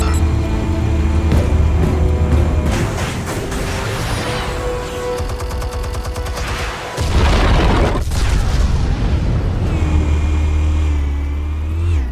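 Explosives going off in Batman: The Telltale Series, loud booming blasts with a sharp dropout near the middle, then a renewed roaring rumble over a sustained game soundtrack, no talk.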